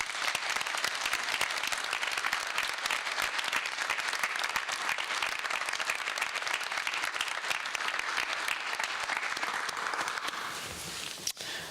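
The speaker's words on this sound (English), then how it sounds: "Please give a warm round of applause to congratulate the newest members of Maynard High School's National Honor Society" A school audience at Maynard High School's National Honor Society induction ceremony breaks into sustained applause, dense steady clapping from many hands that continues for several seconds before tapering off, with a sharp knock near the end.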